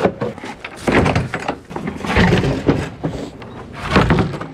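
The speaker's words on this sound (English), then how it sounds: "let's take these doors off" Metal doors come off an old electrical panel with a series of loud, close clanks, rattles and scraping bangs in uneven bursts.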